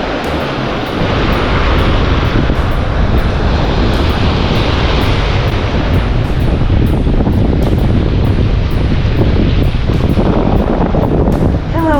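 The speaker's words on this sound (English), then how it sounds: "a little hard to see with these waves. They're a little foamy because it is a little breezy." Foamy waves wash ashore on a breezy beach at Honeymoon Island, with steady surf buried under loud, constant wind buffeting the microphone.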